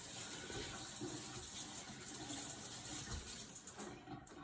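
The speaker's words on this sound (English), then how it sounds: "And she always washes her produce first." Oranges washed under running kitchen tap water, a steady, soft gush of flowing water heard alone throughout.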